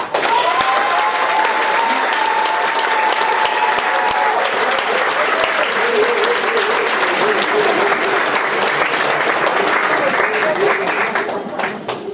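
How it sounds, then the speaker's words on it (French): A theatre audience applauds the actors before a performance, a dense, sustained wall of clapping lasting several seconds at close range, with a voice briefly audible over it early on. "Applaudissez-les, encouragez-les très fort."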